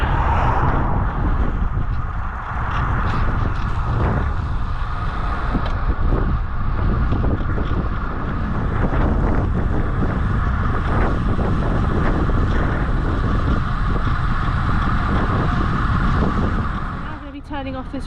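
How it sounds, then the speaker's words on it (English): Steady roar of headwind rushing past the microphone while a rider cycles a hilly local time trial on a fast road, loud and continuous throughout with a brief dip near the end. "Okay, as expected, it is a headwind"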